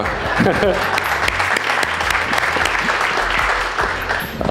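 Sustained applause from a room full of people, thick and continuous, with a voice faintly audible beneath the clapping.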